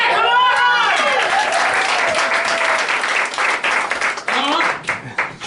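Applause from a comedy show audience, steady clapping mixed with cheering voices and whoops rising over it.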